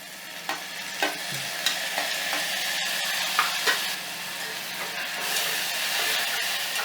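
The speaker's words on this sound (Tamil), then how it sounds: "தக்காளி நல்லா சாஃப்ட் ஆகுற வரைக்கும் நம்ம இதை வதக்கிக்கலாம்" Chopped tomatoes sizzle in hot oil in a pan while being stirred for a soya chunks biryani, with a steady frying hiss and occasional scraping knocks of the spoon.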